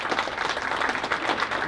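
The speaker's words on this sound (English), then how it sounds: "Let's give them a round of applause" Audience at a pitch competition applauding a presenter, a dense steady burst of many hands clapping close by.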